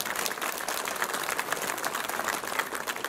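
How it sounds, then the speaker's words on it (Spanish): An audience at a church swearing-in ceremony claps steadily, a dense, sustained wash of applause with no clear voices standing out. "Démosle un aplauso al Señor."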